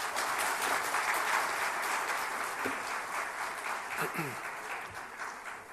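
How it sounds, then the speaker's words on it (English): A conference audience at an education event applauds a speaker with thick, sustained clapping that fills the hall and fades slightly toward the end, with a few faint voices underneath. "a big round of applause for Mr. Shuri"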